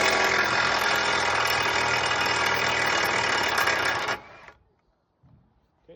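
An impact wrench rattles loudly and continuously for about four seconds as it spins a nut off a 2021 Ford Transit T350 2.0 EcoBlue with a big 36mm socket, then cuts out, leaving near silence and a few faint clicks.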